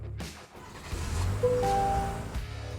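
A 2023 Chevy Colorado truck engine cranks and catches, then settles into a steady low idle rumble that stays close and fairly loud to the end, with no voices.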